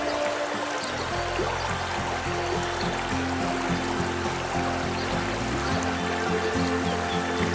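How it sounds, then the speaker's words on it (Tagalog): A strong river current rushes steadily in a continuous, full roar close by, with a faint repeating tonal hum underneath and no voices. "lakas pa ng agos ng tubig doon"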